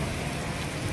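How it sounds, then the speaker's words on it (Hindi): Rain falls steadily on a parked truck near a cement plant in Sindri, Dhanbad, making a dense, even patter with no pauses and no voices. "इतना देर हो गया, बारिश रुकने का नाम ही नहीं ले रहे"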